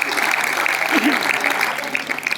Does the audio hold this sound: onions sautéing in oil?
no